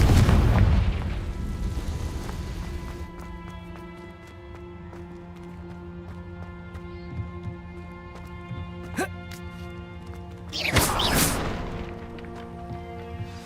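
A Confringo fire spell goes off with a booming blast in the Hogwarts Legacy video game. A sharp burst comes near the end over a steady, layered game soundscape of music and ambience.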